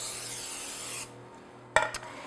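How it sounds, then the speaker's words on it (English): A steady hiss of nonstick cooking spray into a cake pan for about a second, followed by quiet and then two sharp clanks of metal. "today I'm just going to spray it with one of these nonstick sprays."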